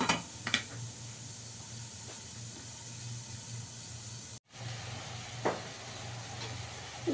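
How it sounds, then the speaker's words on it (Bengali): Ridge gourd frying under a lid in a pan, a faint steady hiss and sizzle with a few soft clicks and knocks of the cover, quiet and continuous. "একটু ঢাকা দিয়ে ভেজে নেব।"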